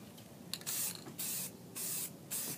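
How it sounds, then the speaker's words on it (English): Rust-Oleum gray primer rattle can spraying light coats onto a door: four separate bursts of steady hissing spray with short pauses between them, close and fairly loud. "we're spraying really, really light coats as we go through."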